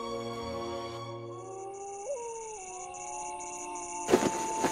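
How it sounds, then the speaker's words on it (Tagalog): Dogs howling outdoors late at night, long drawn-out wavering tones under a soft background drone, with a brief louder burst near the end. "naalimpungatan ako sa alulong ng mga aso sa labas"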